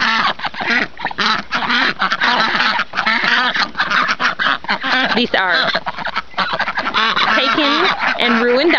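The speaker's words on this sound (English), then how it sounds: "Peking and Ruin ducks, also known as the Peking ducks, like the Chinese food, but it's Pekin." Pekin ducks quack loudly and almost nonstop near a new outdoor pen, a dense overlapping chorus of honks and quacks with a brief voice speaking over it.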